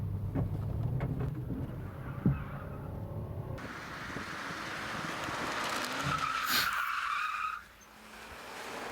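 A car turns and accelerates through a pit maneuver with tires skidding and squealing, a loud, sustained screech near at hand over engine noise that drops away sharply near the end.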